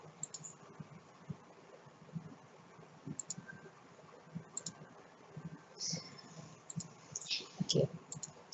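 Keys clicking on a computer keyboard as a command is typed into a Linux terminal, faint and close, in short irregular bursts, with someone talking quietly.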